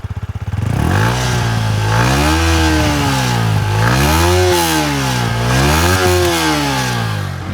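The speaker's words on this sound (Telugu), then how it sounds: "సౌండ్ ఇప్పుడు వినండి ఎలా ఉందో ఒకసారి రైజ్ ఇస్తాము." A Yamaha MT 15 BS7 motorcycle engine revved up close in three rising and falling pulls, loud and steady throttle sweeps with a smooth buzzing tone.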